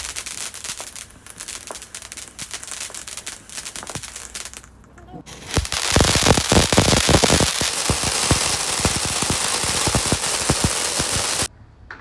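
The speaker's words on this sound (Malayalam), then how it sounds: "അതൊക്കെ കഴിഞ്ഞ് പൂത്തിരി പടക്കൊക്കെ പൊട്ടിച്ചു" Firecrackers and sparklers set off at a Vishu celebration, first scattered crackles and pops, then a loud dense run of sharp bangs and hissing crackle for several seconds before stopping abruptly, voices heard at times.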